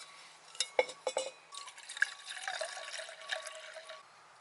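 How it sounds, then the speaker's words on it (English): Water poured into a 12-ounce cup at a motorcycle campsite, a few light splashes and drips, then a steady trickling fill, faint and close, with no voices. "I'm gonna fill water to right there."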